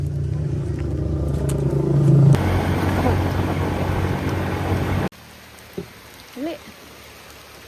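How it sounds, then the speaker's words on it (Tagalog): Heavy rain pours in a dense, steady hiss on a mountain trail in Malinta, Masbate, fairly close and loud, cutting off abruptly to a quieter background with brief thin cries. "ang lakas na ng ulan"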